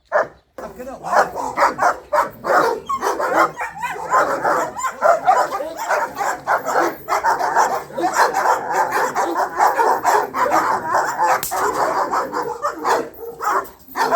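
Dog sounds throughout, with short yips and whimpering mixed in, close and fairly loud, under a continuous stretch of people talking.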